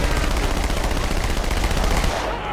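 Rapid automatic gunfire in the video game Halo 2, a dense, loud, continuous burst of shots that fills the whole moment before cutting off abruptly near the end, with no speech.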